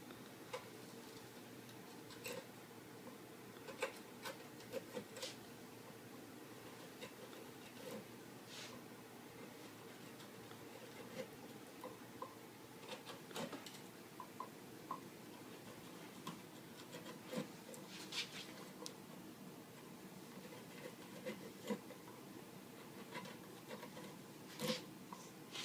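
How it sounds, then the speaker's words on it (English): Forged steel gouge carving wood from the bowl of a wooden spoon, giving soft, continuous scraping and rubbing strokes with scattered light ticks throughout, fairly quiet and close with no talking. "what I'm going to do is gouge the wood out in the bow"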